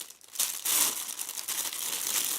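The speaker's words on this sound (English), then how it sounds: "Let's remove it from its plastic bag to show you this lens." Plastic bag crinkling loudly as a Nikon AF-P DX Nikkor 70-300mm f/4.5-6.3G ED VR lens is pulled out of it, a continuous rustle lasting a couple of seconds, close and with no voices.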